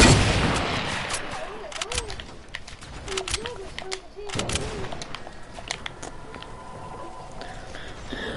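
Gunfire in a Fortnite-style shooter video game: a fast burst of sharp shots opens, followed by scattered single cracks and short volleys over several seconds, loud and close, with game effects in between.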